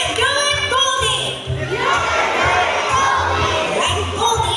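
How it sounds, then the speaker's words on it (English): An audience at a bird show at Ocean Park in Cebu City cheers and shouts loudly together, a dense, sustained roar of voices with children's shrieks, close and energetic throughout. "If it's a yes, then hear you cheer."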